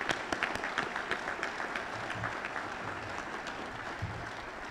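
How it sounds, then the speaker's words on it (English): Audience applause at a fire department recruit graduation ceremony, a steady, fairly faint crowd of many hands clapping continuously with a few sharper claps standing out. "if the family and friends would join me in giving them a round of applause"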